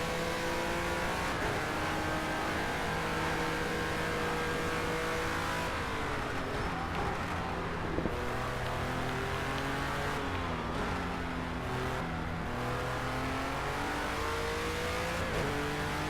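Upgraded Renault race car in a racing video game, its engine droning and revving continuously through gear changes with a few dips and pulls, loud and close for the whole lap.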